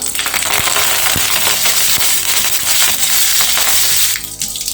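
Curry leaves hit hot oil in a kadai and crackle loudly and densely, with sharp pops scattered through a continuous spattering roar. The crackle stays close and intense, then drops off abruptly near the end.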